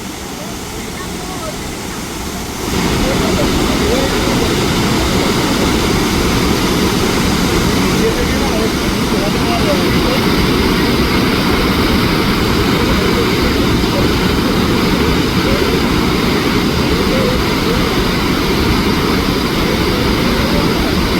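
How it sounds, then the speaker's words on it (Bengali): Dassam Falls near Ranchi thunders in monsoon flood, a dense, steady roar of heavy falling water that swells louder after a few seconds and holds close and unbroken throughout. "এই হচ্ছে দশম ওয়াটারফলস।"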